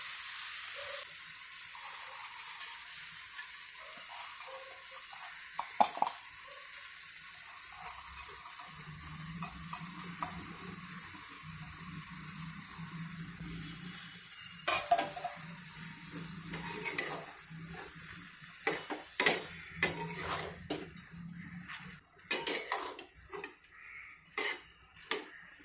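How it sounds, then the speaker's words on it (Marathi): Soaked moong dal goes into sizzling ridge gourd in a pan, starting with a quiet hiss that builds into louder frying, followed by a series of sharp spoon scrapes and clinks against the pan as everything is stirred, with no talking. "भिजलेली जी मुगाची डाळ आहे ना ती सुद्धा आपण याच्यामध्ये टाकून घेऊयात।"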